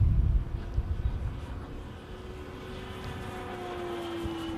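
A Top Flite P-47D Thunderbolt Gold Edition RC model airplane flies past, its steady engine drone holding a sustained tone that fades slightly after a louder start, with no talk.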